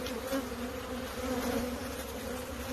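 Honey bees hum around a spring hive in Michigan, a dense continuous buzz of many insects close by at an even level and no speech.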